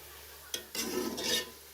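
Sliced medium onions stirred and scraped in a pan as they brown for beef yakhni pulao, with two short bursts of scraping and sizzling separated by a brief pause.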